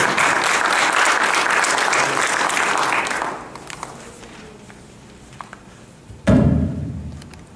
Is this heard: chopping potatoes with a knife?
no